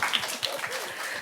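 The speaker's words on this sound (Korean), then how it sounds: "박수 한번 쳐드릴까요?" Audience applause at a Korean occupational safety and health concert, a dense crowd clapping steadily at moderate loudness with a faint murmur of voices underneath.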